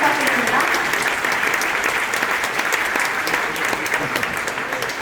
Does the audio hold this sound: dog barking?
no